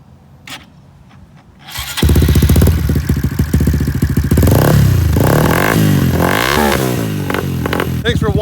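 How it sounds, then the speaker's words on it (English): A 2018 Honda Grom motorcycle with a Yoshimura exhaust cranks after a moment of quiet, catches and runs loud and close, settling into a rough, raspy idle with blips of throttle. "I'm gonna turn the Grom on for you now so you can hear it."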